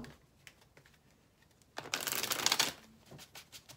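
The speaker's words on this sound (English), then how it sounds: "A couple more shuffles here." Cards being riffled and shuffled, a quick loud burst of rapid fluttering preceded by a few soft taps and followed by lighter handling.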